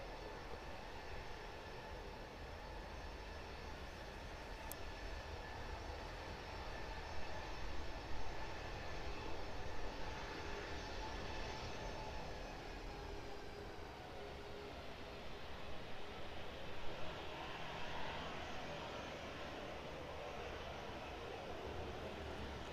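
A Ryanair airliner taxis toward runway 09 for departure at East Midlands Airport, a faint, steady engine whine and rumble heard from a distance and slowly shifting in pitch.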